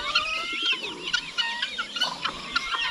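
Farmyard chickens cluck and squawk in overlapping bursts while being fed alongside ducks, close and lively, with faint bird chirps in the background.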